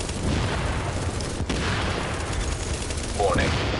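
Explosive bullets fire in The Division, a rapid burst of gunfire with sharp blasts crackling over a dense, noisy game background, loud throughout the short stretch.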